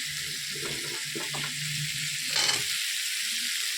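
A fried spice paste sizzles in a pan as ground greens stalks are stirred in for a rohu fish curry, with soft scraping strokes and a brief watery splash near the end, close and without speech.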